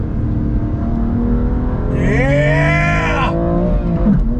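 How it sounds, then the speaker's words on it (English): The tires of a BMW M2 Competition give a short squealing chirp under hard driving, heard over the loud, steady engine drone. A voice shouts briefly nearby. "Nice chirp from the tires."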